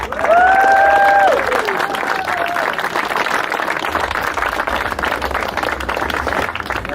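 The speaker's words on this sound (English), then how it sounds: "give the biggest round of applause to Joe Holder!" A crowd claps in a round of applause for a fourth-place award winner at a drift competition, steady and fairly loud throughout, with a brief electronic tone sounding at the very start.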